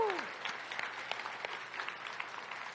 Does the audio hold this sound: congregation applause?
yes